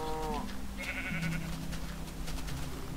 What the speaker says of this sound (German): Was macht dort drin ein Schaf?